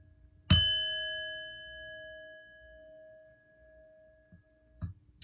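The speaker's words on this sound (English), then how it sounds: "I'm going to ring the bell" A bell is struck once and rings out clearly, its bright tone slowly fading over several seconds, followed near the end by a faint soft knock.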